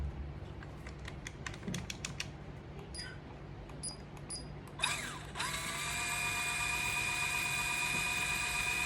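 A used Shimano electric fishing reel, with light ticking and clicking from its mechanism, then a steady whirring whine as the motor and gears spin up and run continuously, close by.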